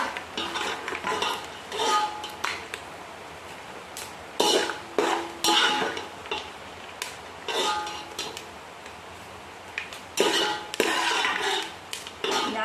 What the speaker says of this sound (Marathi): आता त्याच्यात खोबरं टाकून तळून घेणार आहे